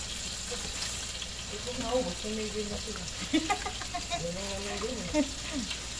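Tapa, cured beef, frying in a pan, a steady soft sizzle running throughout beneath people talking, with a few sharper pops.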